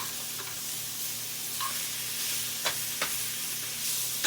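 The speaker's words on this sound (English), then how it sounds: "And you can fry your cabbage down as much." Cabbage fries in a pan with a continuous loud, hissing sizzle, broken by a few sharp scrapes and taps from stirring.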